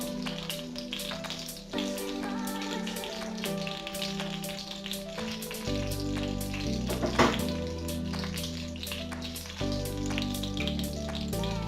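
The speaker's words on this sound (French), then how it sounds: "Une fois que le beurre est fondu, on rajoute les pommes." Apples fry in hot melted butter for a tarte tatin, a continuous crackling sizzle running under a steady musical backing.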